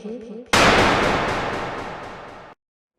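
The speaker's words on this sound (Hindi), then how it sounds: "ये गन शॉट की आवाज" A single loud gunshot near Karlan Waterfall in Abbottabad, an abrupt sharp crack with a long echoing decay that lasts about two seconds, preceded by a brief moment of faint voices.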